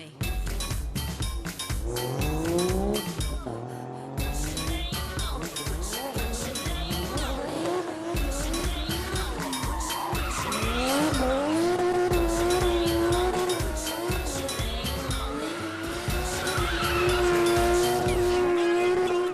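Cars at an autoslalom competition in Boryspil in 2013, with loud revving engines and squealing tyres mixed into a dense, continuous roar. Pitch sweeps show acceleration and skidding, close and sustained throughout.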